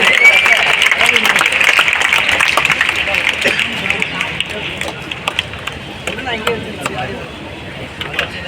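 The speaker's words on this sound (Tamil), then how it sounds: "அதனால ஒரு பலத்த கைத்தட்டல் கொடுக்கலாம்" A crowd claps steadily with dense, crackling applause at a school event, a murmur of voices and scattered louder claps running throughout.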